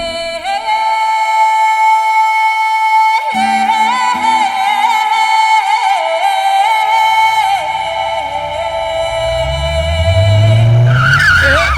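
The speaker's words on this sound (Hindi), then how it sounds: "अरे राज, कार स्टार्ट थी मेरी, लेकिन एक्सीलेटर देने पर गाड़ी आगे नहीं बढ़ रही थी।" A car's engine roars at high revs while the vehicle stays put with the handbrake still engaged, loud and sustained throughout, with rising squealing tones toward the end.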